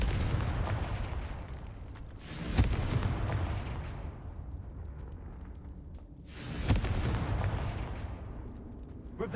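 A fire blast spell cast in the video game Hogwarts Legacy erupts as two loud booming bursts with crackling tails, one early and one later, over steady ambient game sound.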